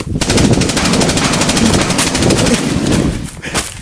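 Loud, rapid gunshots fire in a sustained burst, like automatic weapon fire, close and harsh, tapering slightly near the end.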